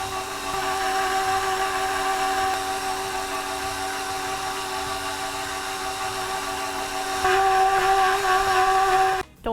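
An electric mixer whirs steadily through cookie dough, a sustained humming drone with a slight shift in pitch near the end before it abruptly cuts off.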